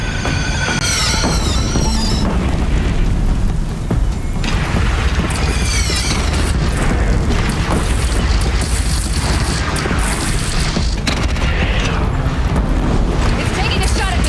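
Deep booming cannon blasts and rumbling explosions during a battle in Horizon Zero Dawn, loud and continuous, with shouting voices and whooshing, sweeping effects over the din.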